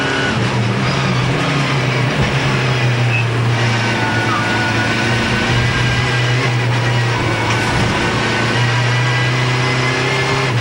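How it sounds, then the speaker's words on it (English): Onboard sound from Ivan Muller's WTCC touring car racing at Puebla, a loud sustained engine drone with shifting pitch and steady road roar throughout. "Great unhurried onboard sounds, aren't they, as we ride with Ivan Muller."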